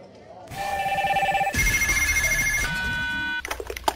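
Telephone ringing ahead of a prank call: a loud, warbling electronic ring tone repeats in rapid pulses, shifting pitch partway through, with a brief click as it ends.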